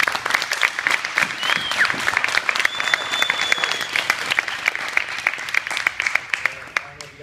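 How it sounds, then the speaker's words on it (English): A group at a Brazilian jiu-jitsu gym in Arlington, Texas applauds new purple belts, with lively close clapping going for several seconds, a few cheers, and voices mixed in. "big round of applause"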